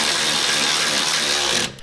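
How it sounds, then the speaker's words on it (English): A ratchet tightens the nuts on the sway bar bolts of a 2016 Subaru WRX during a coilover install, making a close, loud, continuous rapid clicking whir for nearly two seconds before stopping abruptly. "I'm gonna go ahead and just put the nuts on the other side and tighten everything down"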